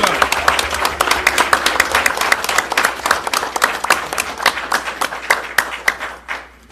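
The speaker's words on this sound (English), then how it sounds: "Let's give them a big round of applause for the girls and the boys." Applause from a council meeting audience honoring children, steady clapping with distinct individual claps, close and full, tapering off toward the end.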